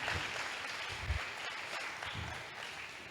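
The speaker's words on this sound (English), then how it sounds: "Please kindly give a round of applause again," A conference audience at an African women's EHS event gives a faint, distant round of applause, a soft, even patter that continues throughout.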